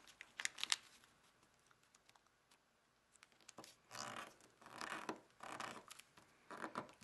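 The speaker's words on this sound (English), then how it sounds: "So we're taking this corner and folding right up to our point." Paper folded and creased by hand for an origami heart box, giving soft scraping and rubbing swishes in short bursts, a few sharp crinkles early on, then a run of longer sliding creases, close and fairly quiet with no talk.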